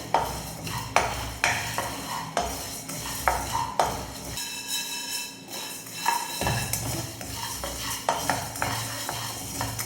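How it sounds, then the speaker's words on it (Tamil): Spices for tamarind rice powder dry-roasting in a pan, with repeated metal spoon scrapes and taps against the pan in an uneven rhythm, close and clear, with a soft rustle of the spices beneath and a short quieter pause midway. "தீஞ்சிடக்கூடாது, பார்த்து வறுத்துக்கோங்க."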